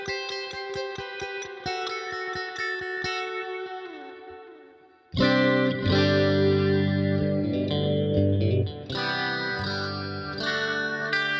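Electric guitar played through a Quad Cortex capture of a practice amp in digital stereo, with ringing picked notes and chords drenched in effects, then a louder, fuller strummed passage, no talk.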